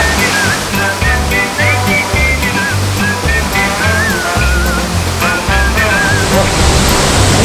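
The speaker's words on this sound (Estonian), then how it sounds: "Nüüd tuleb vett 50 kilomeetrit tunnis" Indoor surf wave in Finland, water rushing at about 50 km/h, a loud close roaring wash throughout, with music and faint shouts mixed in underneath.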